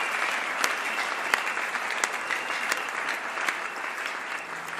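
A church congregation at a wedding service bursts into sustained applause and cheering in praise of God, a dense, steady wash of clapping with a few sharper claps standing out.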